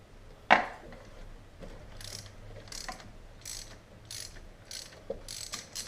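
Ratchet working a 10mm bolt on the EGR valve of a Chevrolet K1500 truck: a sharp clack, then a run of short, evenly spaced metallic clicks up close in a quiet space.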